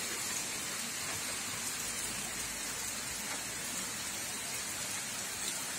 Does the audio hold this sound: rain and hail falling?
yes